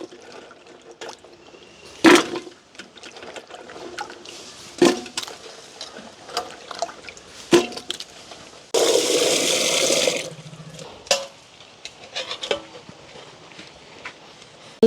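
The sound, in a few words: washing a cooking pot with water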